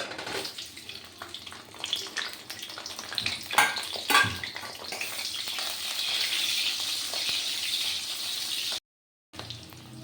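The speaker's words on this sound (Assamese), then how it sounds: "এতিয়া মই আলুখিনি অকণমান ফ্ৰাই কৰি লওঁ।" Potatoes frying in a pan for a ghugni and aloo paratha meal: steady sizzling hiss with a few louder clattering stirs near the start, fairly quiet and close, cut by a brief silent gap near the end.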